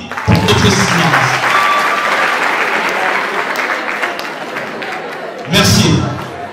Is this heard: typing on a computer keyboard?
no